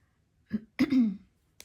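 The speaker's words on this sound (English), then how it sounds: "I keep having to clear my throat" A person clears their throat with a short grunt followed by a longer raspy rumble, close and distinct against near silence.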